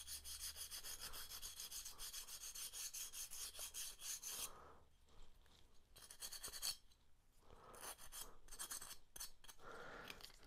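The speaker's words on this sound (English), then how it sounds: "running some 80 grit on it in a crisscross pattern to give it something to grip onto, the epoxy." Coarse 80-grit sandpaper rubs carbon fiber in a crisscross pattern on a model biplane fuselage build, making close, rhythmic scratchy strokes with a short pause midway before the sanding picks up again.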